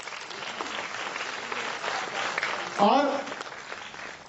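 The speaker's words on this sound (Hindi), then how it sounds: "यदि मेरी पंक्तियों आप तक पहुंची हो तो एक बार आशीर्वाद तालियों से" An audience at a Hindi poetry recital breaks into steady applause for the poet, a continuous patter of clapping with a brief voice cutting through partway.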